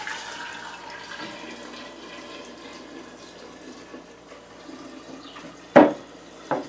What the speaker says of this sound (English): Pour it in the other jar again.